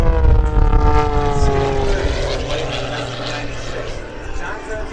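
MX-S aerobatic airplane performing at an airshow, a steady loud propeller engine drone with shifting pitch as it passes, under a commentator's voice over the loudspeakers.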